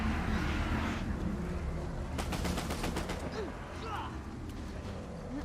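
Mettler rifle shots in the Uncharted 4 video game come as a quick rapid string of sharp cracks, heard under someone talking over dense game noise.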